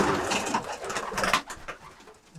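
Pigeons coo softly and repeatedly nearby in a pigeon loft, a low throaty murmur mixed with faint rustling and flutters, no speech.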